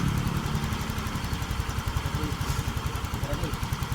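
A Yamaha Soul GT 125 scooter engine idles close by with a steady, even pulsing throb; the idle speed is being raised slightly while a voice talks over the running engine.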